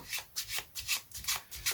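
A deck of playing cards is shuffled during a card magic trick, giving about seven quick riffling bursts in a steady rhythm, close up and alone.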